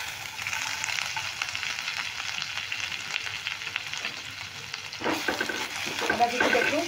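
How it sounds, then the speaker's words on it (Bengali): Grated ginger dropped into hot oil in a pan over a medium flame, a steady close sizzle and frying hiss that swells louder near the end as the ginger is stirred with scraping utensil sounds. "এবার আদা কুচিটা দিয়ে দিচ্ছি।"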